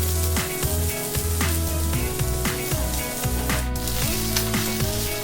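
A bratwurst burger patty sizzles steadily on a cast-iron Lodge Sportsman Grill, a close, continuous crackling hiss that persists without pause, with tonal background sound running underneath.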